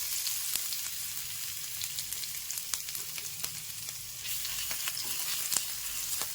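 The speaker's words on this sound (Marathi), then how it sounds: "पॅनमध्ये थोडंसं तेल टाकू थोडस लसूण टाकू आधी" Garlic frying in a little oil in a pan on a gas stove, a soft, steady sizzle with scattered tiny pops and crackles throughout, fairly quiet and close, with no voices.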